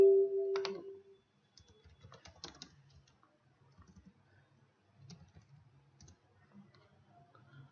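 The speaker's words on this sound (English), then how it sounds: "Just type Bugzilla demo site." Light clicking keystrokes on a computer keyboard in scattered bursts, faint and close, with a brief louder blip at the start and quiet gaps between runs of typing.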